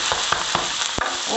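Egg dosa sizzles loudly on a hot pan while it is flipped, giving a constant frying hiss broken by several quick scraping or tapping strokes of the spatula.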